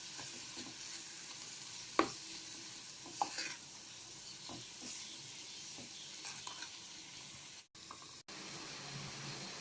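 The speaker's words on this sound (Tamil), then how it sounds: "இதை சேர்த்து எண்ணெயிலே வதக்கிடலாம்." Grated carrot and onion sauté in hot oil with turmeric and chili powder, a steady broadband sizzle with a few sharp stirring clicks and scrapes of the spoon, close and continuous throughout.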